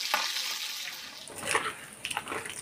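Whole spices, three dried red chillies, cumin seeds and bay leaf, hiss and crackle in hot oil in a kadai, a steady close sizzle with a few brighter spits and stirring bursts toward the end.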